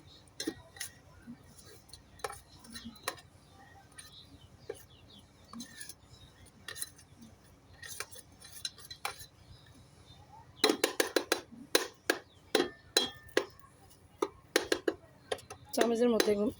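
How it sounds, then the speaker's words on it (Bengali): Spoon stirring caramel in a pan while making pudding, giving scattered light metallic clinks and scrapes, sparse at first and then a denser cluster of sharper taps toward the end. "আস্তে আস্তে আমি এটা নাড়বো যাতে পুড়ে না যায়।"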